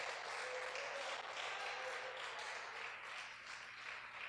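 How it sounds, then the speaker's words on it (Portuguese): A church congregation applauding during a sermon, a soft even wash of many hands clapping heard from a distance with no talking. "Aplauda o Senhor bem forte"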